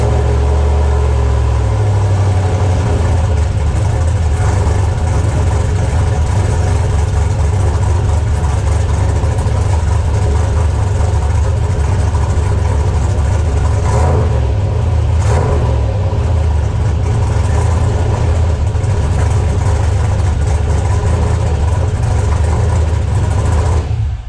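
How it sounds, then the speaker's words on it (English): A turbocharged 6.0 LS V8 in a Mustang, running through its original exhaust, idles with a loud, steady low rumble and rises in a couple of brief revs partway through, heard up close with no talking. "this is gonna be a sound clip of it with the exhaust the way it was, without this extra pipe"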